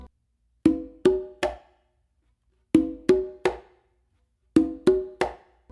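Conga and requinto play in three repeated groups of three strokes, ringing open tones mixed with sharper slaps, each group separated by a short pause.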